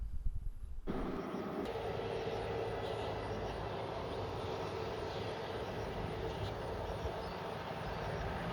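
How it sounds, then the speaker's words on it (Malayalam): A fixed-wing airliner rolls down the runway at Cochin International Airport for takeoff, its jet engines giving a loud, steady roar that holds evenly throughout, with no talk heard. "അവിടെ നിന്ന് റൺവേയിൽ ഒരു ഫ്ലൈറ്റ് വരുന്നുണ്ട് ടേക്ക് ഓഫിനായിട്ട്."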